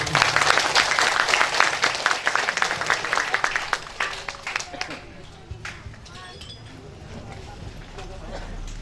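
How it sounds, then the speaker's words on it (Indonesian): An audience at a public ceremony at Pasar Galekan market claps loudly for about four seconds, then the applause dies away into scattered claps and a quieter murmur. "kasih aplaus dan tepuk tangan dulu"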